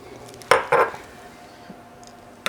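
A spoon clacking against a bowl while mixing green bean casserole ingredients, two sharp close knocks in quick succession, then quiet scraping and a final tap.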